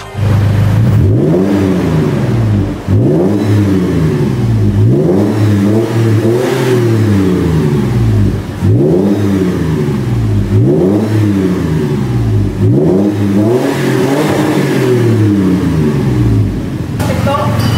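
A Toyota FJ Cruiser engine with a new exhaust revs repeatedly in loud, rising-and-falling bursts about every two seconds, each climbing to a throaty peak before dropping back to idle, with a voice briefly heard nearby.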